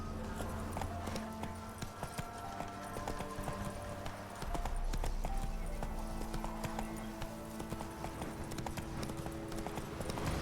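Horse galloping in The Witcher 3, a rapid steady clip-clop of hooves on ground running throughout, with occasional snorts and a dense game soundscape layered underneath.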